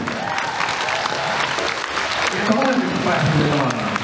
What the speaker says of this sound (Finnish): Annetaan aplodit ystäville Saku ja Jenny.